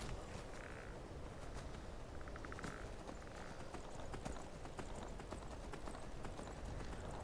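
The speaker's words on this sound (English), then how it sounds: "Horsey!" A horse gallops in Skyrim, its rhythmic hoofbeats clopping fast and steady throughout, quiet and even in level against a dense wash of game ambience, with no talk.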